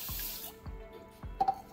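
Water runs from a kitchen tap into a container for a turkey brine, a steady gush that gives way to a few drips and light splashes, quiet and close.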